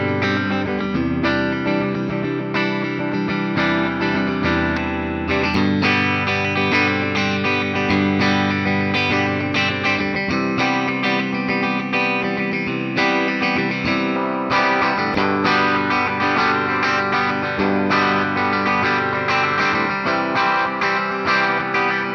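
A Fender USA Chris Shiflett Telecaster Deluxe electric guitar with noiseless pickups plays continuously through effects with chorus and distortion, a dense, steady stream of strummed and picked notes without any voices.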